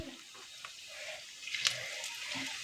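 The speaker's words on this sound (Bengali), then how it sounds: "এখন কড়াই গরম হয়ে গেছে, কড়াইয়ের মধ্যে জিরে দিতে হবে।" Cumin seeds hit a hot wok and sizzle, a soft crackling fry that rises midway with a stir, fairly quiet and close with no talk.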